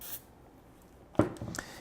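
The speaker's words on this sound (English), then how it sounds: "I'll spray a little bit on a patch." Gun cleaner is sprayed onto a cleaning patch in a single short, quiet spritz, heard after a near-silent pause.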